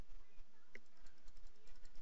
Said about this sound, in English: Now I'm using my arrow keys to move